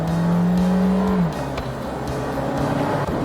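A low, steady engine groan from a Skoda Slavia's 1.5-litre TSI hums inside the car cabin, shifting slightly in pitch as the car accelerates, with muffled road noise beneath.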